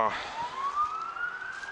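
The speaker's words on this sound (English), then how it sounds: "Get to listen to all the sirens." Emergency vehicle sirens wail at a distance during a flood, the tone sliding upward in a long sweep over low background noise.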